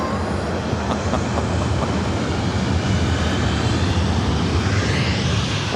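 A Southwest jet takes off from runway 24 right at LAX, its loud engine roar rumbling steadily and close, then rising toward a higher whine near the end, with no talk.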